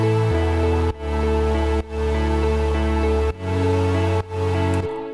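A deep electronic-music drop builds from a heavy synth bass layer under sustained atmospheric pads, with chords shifting in blocks, loud and continuous, without voices.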